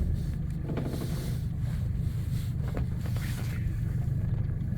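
A fishing boat out on the Baltic moves off toward a bay with a low, continuous engine rumble, steady throughout, mixed with wind and water noise.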